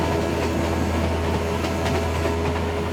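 A narrow-gauge green train rolls along rails through Sardinia, its steady low rumble and rail noise filling the carriage, with faint rhythmic clicks of the wheels throughout.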